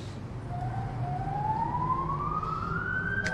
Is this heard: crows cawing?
no